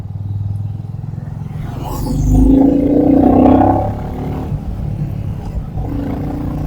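A motorcycle engine rumbles low and steady in fifth gear on an early-morning ride in Hyderabad. The roar swells louder for a couple of seconds, then settles back into a continuous drone with wind noise.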